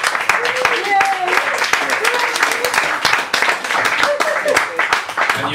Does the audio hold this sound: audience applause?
yes